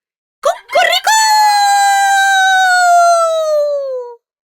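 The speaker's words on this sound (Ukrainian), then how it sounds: "Вранці друзів розбудив півнячий крик." A rooster crows once at close range in the morning: two short clipped notes, then a long, loud, drawn-out call that slowly falls in pitch before cutting off into silence.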